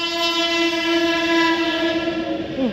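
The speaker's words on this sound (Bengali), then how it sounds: "এই শ্রীরামপুর স্টেশনে কিন্তু জুন এক্সপ্রেস এসে দাঁড়াবে" A train arriving at Serampore railway station sounds a loud, sustained horn for nearly three seconds. The steady tone is close and alone, with its pitch sagging slightly as it fades at the end.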